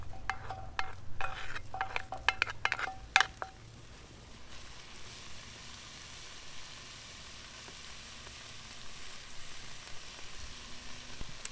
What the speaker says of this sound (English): All I have to do now is add it to the Dutch oven.